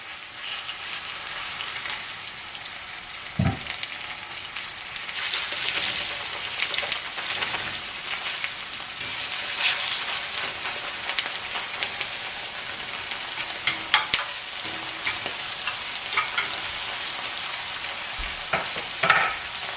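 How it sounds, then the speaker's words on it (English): Filet mignon frying in a pan while being stirred gives a steady, close sizzle with a crackling texture, broken by occasional soft clinks and scrapes of the utensil, and no speech. "Now we're gonna add this filet mignon because we're gonna stir it."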